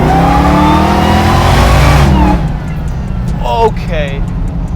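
Hellcat-swapped 707 hp Plymouth Cuda pro-touring car at full throttle with tires spinning: a loud, close engine roar climbs in pitch for about two seconds, then cuts back to a lower rumble while people talk.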